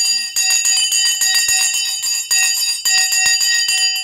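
A bright metallic bell rings in a rapid series of repeated strikes with a sustained ringing tone, loud and alone.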